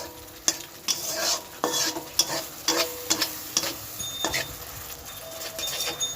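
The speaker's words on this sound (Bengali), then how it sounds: "আমি ভালো করে নাড়াচাড়া করে নিচ্ছি" Tomato cooked with a turmeric and chili paste is stirred in a pan for a pabda fish dish, giving repeated spoon scrapes and clacks over a steady low sizzle, close and moderately loud, with no talking.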